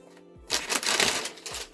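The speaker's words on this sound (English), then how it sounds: "And then we have this tissue paper here." Tissue paper rustles and crinkles as it is pulled out of the packaging of a 1/7 scale figure, a close crisp swish lasting about a second, with a short faint rustle after.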